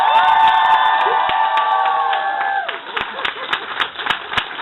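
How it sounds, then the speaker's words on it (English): Convention audience applause and cheering at a fan event, loud at first with harmonic whoops and shouts over the clapping, then thinning into scattered claps and voices. "Let's give him a big round of applause."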